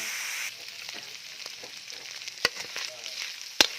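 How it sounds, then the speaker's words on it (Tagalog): Ground meat sizzles steadily in a pan while being stirred, with soft scraping and a couple of sharp clinks from the utensil against the pan. "nalagay ko na yung ating giniling. Papupulahin po natin yan. Halu-haluin natin guys"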